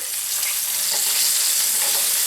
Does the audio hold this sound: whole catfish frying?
yes